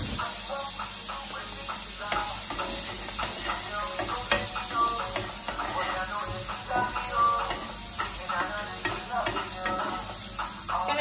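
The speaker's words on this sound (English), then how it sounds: "I'm gonna chuck them in there so they can be fried as well." Prawns frying in a pan for fried rice, a continuous close sizzle with scraping and stirring sounds, faint background noise throughout.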